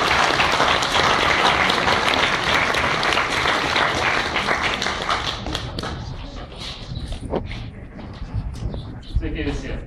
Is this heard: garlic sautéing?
no